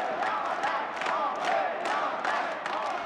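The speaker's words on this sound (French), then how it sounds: "Et on entend la foule qui commence à scander quelque chose." A hockey arena crowd takes up a rhythmic chant, loud massed voices rising and falling in repeated swells about twice a second.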